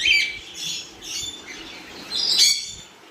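Pet birds in an aviary of lutino and pied pairs give short, bright chirps and squawks in a few separate bursts, fairly close and moderately loud over a quiet background.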